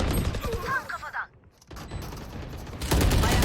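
Gunfire in a Valorant match: rapid bursts of shots crackle loudly at the start, drop away into a near-silent pause, then resume as sustained automatic fire, with a voice talking over parts of it.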